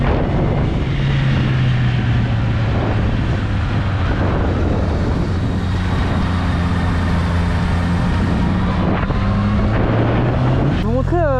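A Honda CBR 650 R sport motorcycle ridden on a road gives a steady, loud engine drone whose pitch climbs under acceleration, mixed with heavy wind rush.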